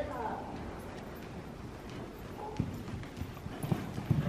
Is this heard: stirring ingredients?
no